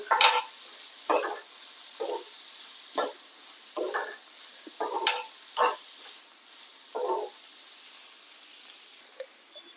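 Sausage sautéing in a pan comes through as intermittent spatula scrapes and stirring bursts with a light sizzle between them, close and fairly clear against a quiet background.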